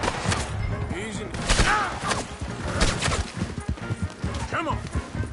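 Gunfire from Red Dead Redemption 2 cracks in bursts amid horse hooves and thuds, with shouting voices over a busy, loud mix.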